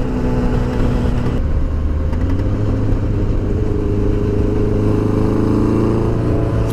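A hardtail bobber chopper motorcycle cruising at speed, its engine a steady loud mid-range drone with wind rush throughout, no speech.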